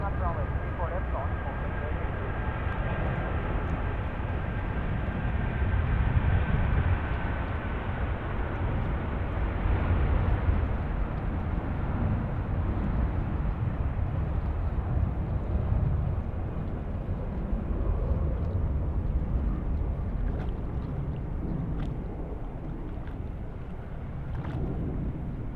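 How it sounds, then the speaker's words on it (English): An Airbus A330 takes off from Sydney Airport at night: steady, heavy jet roar rumbles on throughout at moderate distance, with wind buffeting the microphone. "It's the A330 now, punching it out."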